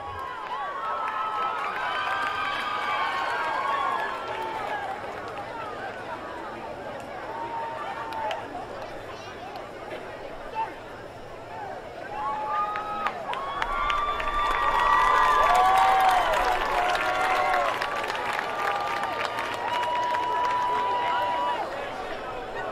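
A crowd in the stands at a high school football game cheers, claps and shouts during a homecoming court presentation, a sustained far-off roar of voices with a swell of applause midway, steady throughout.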